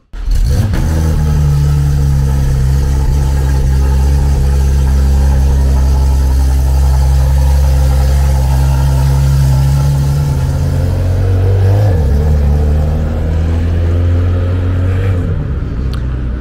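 A Porsche GT3 idles loudly and close while being unloaded at the Le Castellet circuit, a deep steady engine drone holding for several seconds, then dipping briefly with a small blip of the throttle before settling again.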